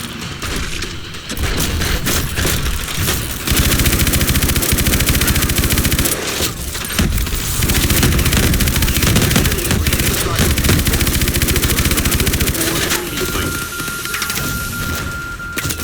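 A mech's main gun in Call of Duty: Advanced Warfare pounds out a loud, sustained barrage of heavy rapid fire, nearly unbroken for about fifteen seconds with only brief dips, close and dense amid battle noise.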